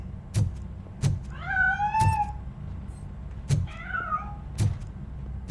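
Two separate cat meows in the Robocop Rogue City video game, heard close and clear over a low rumbling game backdrop with sharp, regular thumping knocks.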